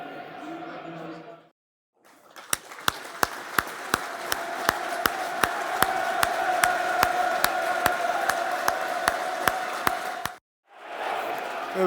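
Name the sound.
Millwall football crowd's minute's applause for Memorial Day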